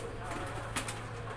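Pigeons of imported breeds coo softly amid a steady hum and rustling background noise, nearby but faint, at a fancy pigeon farm in Chhattisgarh.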